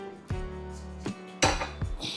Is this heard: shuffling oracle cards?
no